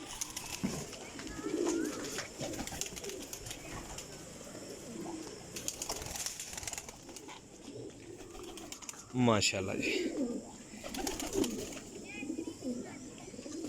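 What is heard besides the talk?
pigeons cooing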